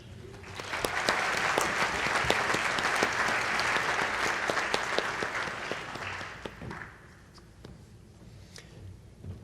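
A banquet audience at an Arkansas 4-H awards of excellence event applauds the award winners, loud, dense clapping for about six seconds that then thins to scattered claps and dies away.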